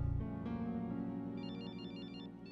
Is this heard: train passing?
no